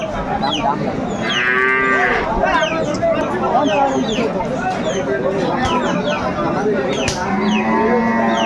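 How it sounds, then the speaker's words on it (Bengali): Cows and calves at a village cattle market in Dinajpur, with several loud drawn-out moos overlapping amid constant crowd chatter and nearby talk. "চমৎকার গাভী বাছুর আমরা দেখছিলাম এখানে"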